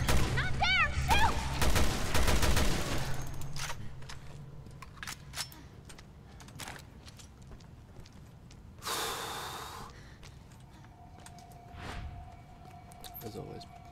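Gunshots and monster sounds in the survival horror game Resident Evil Revelations 2, a few sharp cracks and bursts spread over quiet game ambience, with a loud breathy rush near the middle and a voice heard early on.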